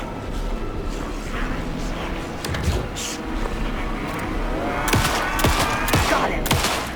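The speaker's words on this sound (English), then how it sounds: "Shoot him to pin him down." Gunfire in the survival horror game Alan Wake 2, a rapid burst of shots near the end over a dense, rumbling mix of game sound, with people talking at times.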